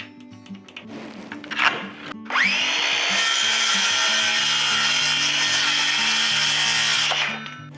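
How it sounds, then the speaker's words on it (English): A power saw cuts a wooden trim board for a shed door, one sustained loud whining cut lasting about five seconds after brief preliminary buzzing and handling noise, close and without talk. "I think I'm gonna cut my first one, my top one first."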